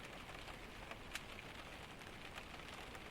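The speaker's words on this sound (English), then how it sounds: "It falls against the window in long, continuous sheets, and the sound of it fills the room" Steady rain pattering against glass in a continuous wash, soft and even, with a few slightly sharper drops standing out now and then.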